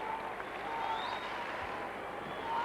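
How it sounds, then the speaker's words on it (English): Stadium crowd at an athletics meeting, a steady broad roar of cheering and applause throughout, with a commentator's voice faintly mixed in. "The crowd loving this."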